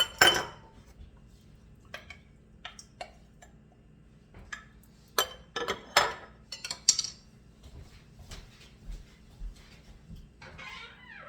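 Spoon clinking and scraping against glass mincemeat jars, scooping out the last of the filling for an old-fashioned mincemeat pie; a string of light, irregular metallic taps and scrapes, close by and fairly quiet, with no talking.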